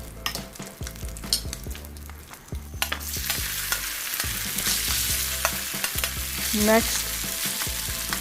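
Oil sizzles and fries steadily in a pan for homemade chicken pickle, growing into a loud, dense hiss midway, with a few knocks and a brief spoken word near the start.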